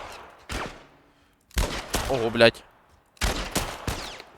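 Bursts of gunfire in The Last of Us in several short volleys separated by pauses, with a man swearing in surprise in Ukrainian between them.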